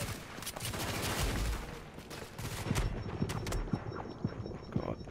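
Gunfire in the shooter video game Tom Clancy's The Division beta, bursts of sharp shots and scattered cracks over a noisy background, moderately loud with irregular spacing.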